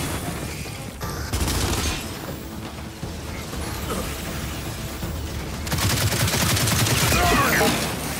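Gears 5 enemies blowing up in a game, a dense busy mix of bangs and mechanical rattles with gunfire, swelling loudest in a final burst near the end.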